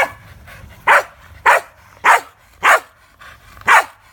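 Five sharp Keeshond barks come at a steady, evenly spaced rhythm, loud and close, with quiet gaps between them.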